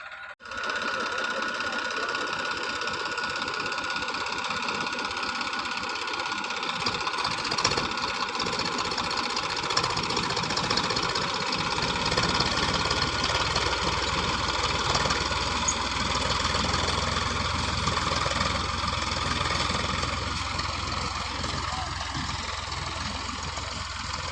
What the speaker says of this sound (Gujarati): કેવી રીતના વાવે છે ટ્રેક્ટર તે તમે જોજો